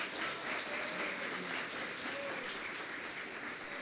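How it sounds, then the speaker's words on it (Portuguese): A church congregation applauds during a worship service, a steady, fairly soft wash of clapping hands that continues evenly throughout. "dá uma salva de palmas para Jesus"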